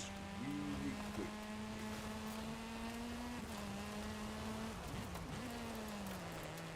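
A race car in Forza Horizon 5 drones along at a steady engine pitch, dipping and rising briefly through gear shifts, with the engine note sustained and fairly close.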